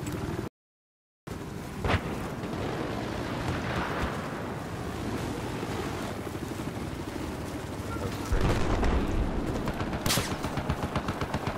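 Gunfire in Battlefield 4, with shots cracking over a steady battlefield rumble of engines and wash, including a couple of sharper reports near the middle and end, while a player talks over the action.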